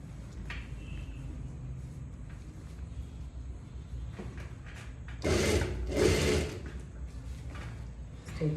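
A sewing machine stitches a straight seam on a kurta, mostly a low quiet mechanical hum with two brief louder bursts of running near the middle.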